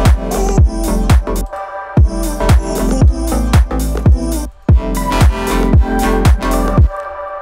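An electronic song plays on its own: loud, punchy kicks and bright synth stabs in a steady repeating groove, with a brief drop in the middle before the beat returns.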